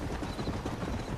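Horses trot in the Red Dead Redemption video game, a dense, muffled rumble of hoofbeats that fills a brief moment at fairly close range, with no distinct individual steps.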